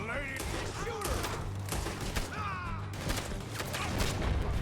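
Gunfire erupts during a Red Dead Redemption 2 shootout, sharp shots and booms scattered over a continuous rumbling game soundscape while players talk excitedly over the action.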